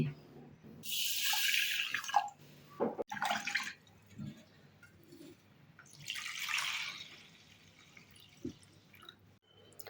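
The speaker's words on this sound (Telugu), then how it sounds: "1 కప్పు కొర్రలు తీసుకొని శుభ్రంగా వాష్ చేసుకోవాలి." Foxtail millet being washed in water, with splashing and swishing bursts that come in a few separate rounds, plus occasional drips and soft knocks between them.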